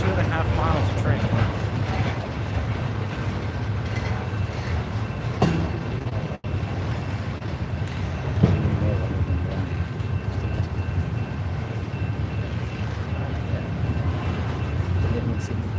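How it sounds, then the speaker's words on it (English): A very long CSX freight train rolls past, led by a locomotive, with steady close rumbling, rattling cars and faint clickety-clack of wheels continuing throughout, while people talk intermittently over it. "this is a massive, massively long train"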